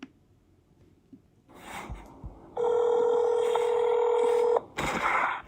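Telephone dialing tones sound during a played phone call recording: after quiet line noise and a faint buzz, a steady tone holds for about two seconds, then a brief burst of further tones follows.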